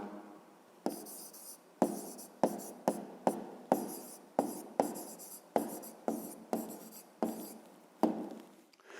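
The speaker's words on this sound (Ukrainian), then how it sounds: "і записуємо тоді відповідь" A pen writing an answer by hand on paper in a math exercise, close and quiet, with a series of short scratchy strokes coming in an uneven rhythm and brief pauses between them.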